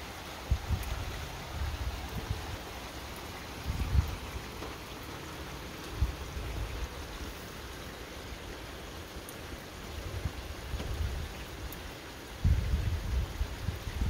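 Steady rain falls outdoors as a soft, even hiss, with low thumps and gusts rising at intervals and a louder surge near the end.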